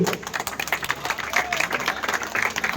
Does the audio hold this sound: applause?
yes